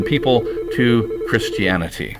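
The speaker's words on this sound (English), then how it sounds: "that was my phone" A phone rings with a steady repeating tone underneath someone talking, the ring pulsing through his speech.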